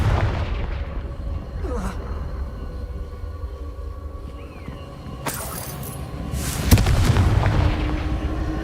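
A Confringo spell in a video game bursts into a sharp explosion, with a loud crack and then a deep boom and rumble over a low steady background.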